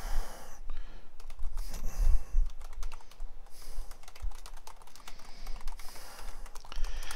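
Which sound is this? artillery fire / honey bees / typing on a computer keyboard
typing on a computer keyboard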